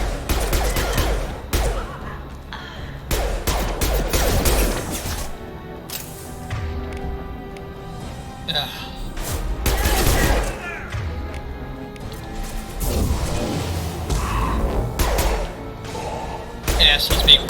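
Bursts of sci-fi gunfire and impacts from Mass Effect 2 combat against shielded enemies, loud thuds and crashes recurring irregularly over a busy game soundscape.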